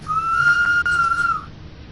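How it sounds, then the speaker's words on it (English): A train whistle in the railway game Train Sim World 2, on the Arosa Line, gives a single sustained tone lasting over a second at full volume, then cuts off cleanly. "we'll still be able to hear the whistle at full volume"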